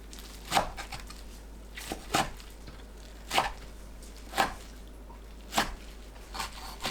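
A knife slices through squeezed, soaked dried miyeok seaweed on a board, a series of six or so soft, wet chops spaced about a second apart, close and fairly quiet with no talking.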